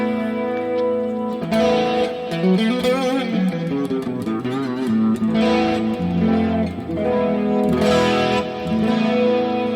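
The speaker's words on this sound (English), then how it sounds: "These nice light crunch tones." An electric guitar plays through a Valeton GP-200 multi-effects unit set to a Vox amp model with a light crunch tone, strumming sustained, mildly distorted chords in a steady phrase for about ten seconds.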